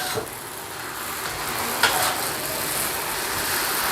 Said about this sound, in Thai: เราจะผัดประมาณนี้นะครับ